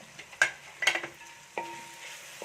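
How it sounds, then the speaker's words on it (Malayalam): Crushed green chillies are tipped into a hot frying pan and stirred, giving a few sharp clinks of a spoon against the pan over a soft, steady sizzle, with no voices. "ഞാനൊരു 6 പച്ചമുളക് ഇതുപോലെ ചതച്ചെടുത്തതാണ്, അതുകൊണ്ട് നമുക്ക് ഇട്ട് കൊടുക്കാം"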